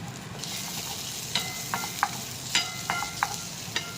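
Onion and cashew pieces fry in oil for mutton sukka, a steady close sizzle broken by repeated metallic spoon scrapes and taps as they are stirred, no talking.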